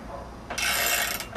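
The jack bolt on an SMP Tools valve removal tool is turned with a wrench, giving a brief, close, grinding mechanical rasp of about half a second, followed by a shorter scrape.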